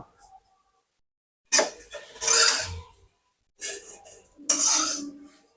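Fried vermicelli being lifted out of a kadai with a utensil: a few short, raspy scraping strokes against the pan, separated by quiet pauses.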